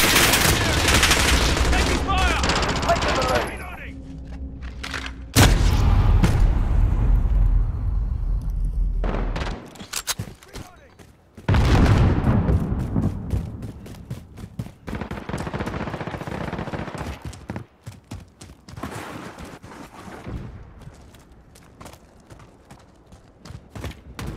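Rapid automatic gunfire and explosive bursts in the Modern Warfare 2019 video game during a Team Deathmatch, loud close volleys with pauses and scattered shots, voices calling out in between.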